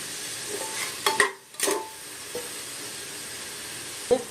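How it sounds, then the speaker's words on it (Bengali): Chana dal fries in a pan with salt, turmeric, chili powder and a little sugar while a spoon stirs it. Several short scraping strokes rise over a steady, soft sizzle, with a lone scrape near the end. "এরপরে এটা একটু ভালো করে নাড়াচাড়া করে দিচ্ছি।"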